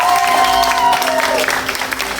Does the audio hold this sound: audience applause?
yes